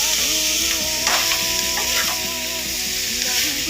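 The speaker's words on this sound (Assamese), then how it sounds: "এতিয়া আমি দিম আমাৰ বইল কৰি ৰখা চাওমিনখিনি, এইখিনি আমি দি দিলোঁ। দি পেলাই এতিয়া আমি লৰাই দিওঁ" Boiled chow mein noodles are stir-fried in a pan, with a loud continuous sizzle and repeated scraping of a spatula as they are tossed, and no talking.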